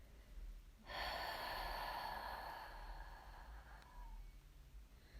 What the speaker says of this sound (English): Open mouth, exhale, let it go.